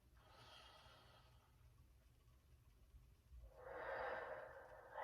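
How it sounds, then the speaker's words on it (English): Deep breaths drawn in through the nose during a stretching class, two long airy inhales close to the mic, the second louder and fuller. "We want to be inhaling deeply through the nose"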